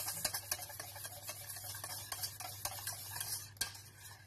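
A whisk or spoon stirring gluten-free, lactose-free custard cream in a bowl, a quiet run of soft taps and scraping clicks against the sides, with a few sharper knocks, close and without speech.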